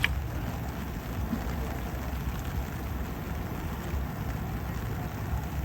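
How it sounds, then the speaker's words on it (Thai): Steady rain falling outdoors in rural Sukhothai, Thailand, a soft even hiss of drops with low rumble, moderately quiet and unbroken, no talk. "อยู่ดีฝนตกแล้ว"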